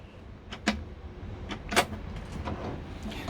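A drawer in a Dreamer Black Addict campervan slides open and shut, giving a couple of short close knocks and sliding scrapes against a faint background hum.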